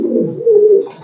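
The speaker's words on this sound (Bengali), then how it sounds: "খুব কোয়ালিটি সম্পন্ন কবুতর।" Pigeons coo in a soft, low, rolling call, close by and alone, with a short rising note at the end.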